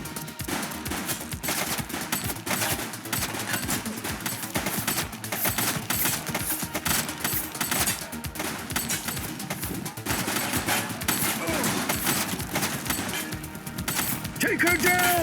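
Gunfire from a suspect in The Precinct rattles in rapid, dense bursts throughout, loud and close, with shouting voices mixed in over the shots.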